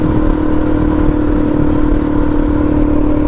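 Suzuki DRZ400 dirt bike engine idling steadily up close, a continuous loud low drone with a strong even hum and mechanical clatter, no talking.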